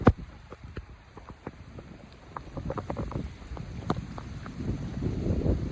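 Steady patter of storm rain on a surface in a Pakistani village, with scattered distinct taps and a soft wash of wind, growing slightly louder toward the end.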